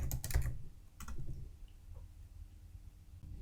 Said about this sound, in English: I will type a question